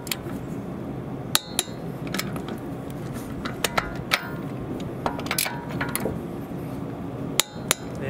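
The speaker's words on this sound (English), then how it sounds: "Tighten it until it clicks." A torque wrench tightens a rear brake caliper bolt on a 2002–2006 Acura RSX. It gives several sharp, close metallic clicks at irregular intervals over a low mechanical background.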